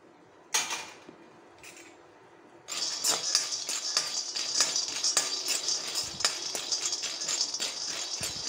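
Bikan, dried fish, dry-roasting in a pan: after a couple of faint scrapes, a dense run of crackling pops and metallic scraping starts near and keeps going steadily, with no voices.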